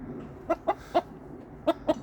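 A chicken gives five short clucks, in two quick groups separated by a pause, fairly close against a quiet background.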